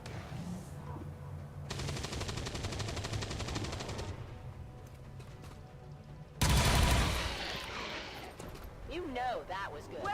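Automatic weapon fire in the tactical game XCOM 2 comes in two dense sustained bursts, the second louder and nearer, with a voice speaking at the end.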